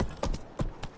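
Roach, the horse in The Witcher 3: Wild Hunt, galloping with rhythmic clip-clop hoofbeats, three quick close thuds in a short burst, loud and clear with no talk over them.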